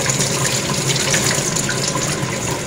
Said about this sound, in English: See the water just rotating around in a circle there while I'm holding on to the rotor. And it's just draining.